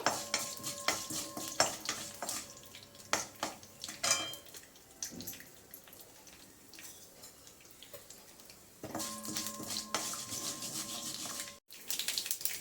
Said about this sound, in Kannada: ಈಗ ಇದಕ್ಕೆ ಒಂದು ಟೀ ಸ್ಪೂನಷ್ಟು ಸಾಸಿವೆ ಹಾಕೋತಾ ಇದ್ದೀನಿ ಸಾಸಿವೆ ಚೆನ್ನಾಗಿ ಚಿಟ್ಬಿಟ್ಬೇಕು